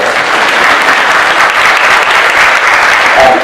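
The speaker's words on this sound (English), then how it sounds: "You can clap for that." An audience at a high school dedication ceremony, John Champe HS, bursts into loud, sustained applause, dense and close throughout with no pause.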